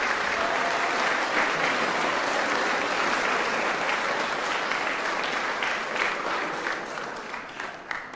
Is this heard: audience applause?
yes